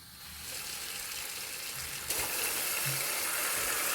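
Cold tap water runs steadily into a sink to rinse homemade rasgulla, a broad continuous splash that grows slightly fuller partway through, close and alone.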